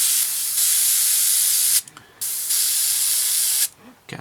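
Paint sprays in bursts from an airbrush or can onto a 1/32 scale Wingnut Wings RE.8 model kit, with loud hissing blasts and two brief pauses between them.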